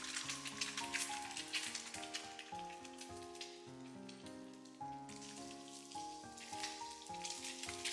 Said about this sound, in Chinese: 我这里煎鸡蛋开的是最大火，大火能让它快速定型成脆壳